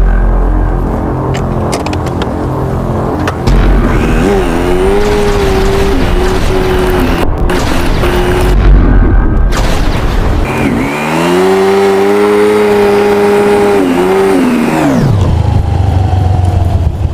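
A car engine revving loud and close, rising and falling in pitch as it pulls away and accelerates, with steady roaring throughout and a final shift near the end, no voices.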